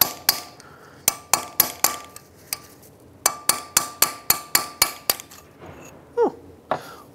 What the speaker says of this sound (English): I'm gonna use a chisel bit and hammer this side in